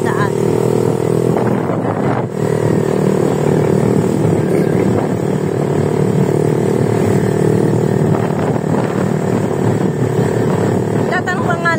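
A motorcycle rides along a narrow path beside a road under construction on the way to a river in the Philippines, its steady engine drone continuous and close throughout, with passengers talking over it.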